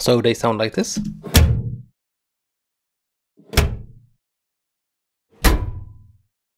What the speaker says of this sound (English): all of them are from a big metal drawer